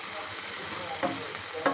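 Crispy corn kernels with coriander leaves being stirred in a pan, a steady soft sizzle with a few scraping strokes of a spoon near the end.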